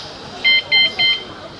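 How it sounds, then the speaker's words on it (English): A USB-chargeable alarm mounted on a Surly Ogre bicycle sounds three loud, piercing electronic beeps in an even rhythm, close by over a faint background. "This here is actually a bike alarm I put on."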